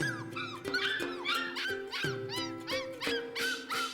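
Puppies whine and yelp in a rapid stream of high, rising and falling cries, several voices overlapping, close by and fairly loud.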